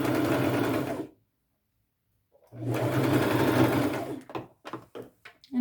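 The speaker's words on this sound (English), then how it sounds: "I will just sew over those little pleats as I go and pull pins out" A sewing machine stitches over small pleats in black lace fabric in two close, loud bursts separated by a pause, then short stop-start runs.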